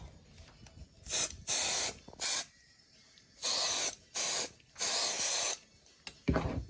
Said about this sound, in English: I'm going to spray that.